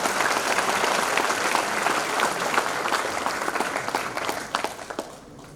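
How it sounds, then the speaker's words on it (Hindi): An audience and faculty members at a ceremony handing out Hindi-language first-year MBBS textbooks break into dense, steady applause that fills the hall, then thins and trails off toward the end. "फैकल्टी मेंबर की ताली अच्छी बढ़नी चाहिए"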